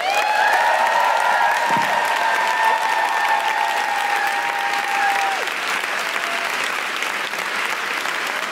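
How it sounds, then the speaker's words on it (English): A studio audience applauds steadily to welcome guests onto a talk show, sustained clapping at full level throughout with a faint background tone. "Please clap your hands and welcome Kerry Abel and Alisa Berry!"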